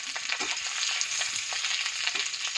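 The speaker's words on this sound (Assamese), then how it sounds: "তাতে মই এখিলা তেজপাত আৰু অলপমান পিঁয়াজ দি দিছোঁ।" Bay leaf and chopped onion frying in hot oil in a wok, a steady close sizzle with small crackles and light stirring scrapes throughout, no voices.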